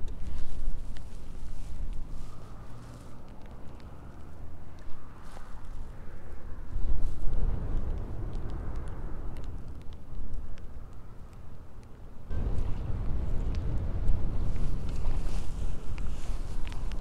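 Strong wind buffets a riverbank while walleye fishing, a steady loud rumbling roar of gusts battering the microphone that swells and eases, surging hardest near the end, with no other clear sounds.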